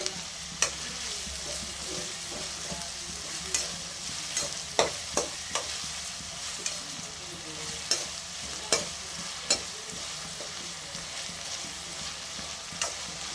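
Salted onions frying in a pan for a Sunday mutton gravy, a soft steady sizzle punctuated by scattered scrapes and taps of a stirring spoon, close but fairly quiet, with no voices.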